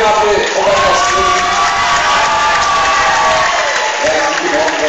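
Audience at a secondary school graduation ball in Mladá Boleslav claps loudly and steadily throughout, a dense, continuous burst of applause with some cheering mixed in.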